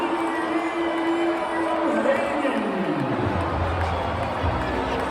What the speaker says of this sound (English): The crowd ain't liking that one.